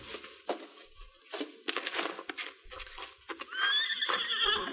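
Horses whinny and neigh with clip-clopping hooves under trees in tall brush, a few clustered calls and hoof taps, fairly faint and distant with no voices.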